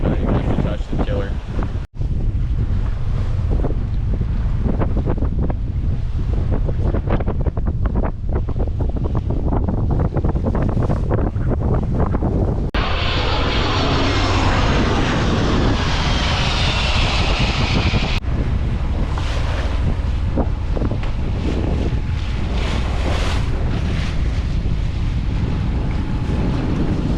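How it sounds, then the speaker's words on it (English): Strong wind of 20 to 22 knots buffets a sailboat on rough seas off Oahu, a loud, constant roar and rush with wind hitting the microphone, water sounds beneath, and a voice talking through it. "Conditions are pretty rough. It's blowing 20-22 knots"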